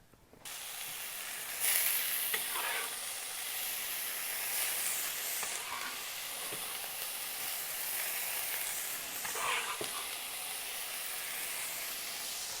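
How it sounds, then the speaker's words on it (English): Mushrooms sizzle and crackle in hot oil in a pan, a steady hiss with scattered pops and spatters running throughout, close and fairly quiet. "by cooking the mushrooms in a hot pan and hot oil"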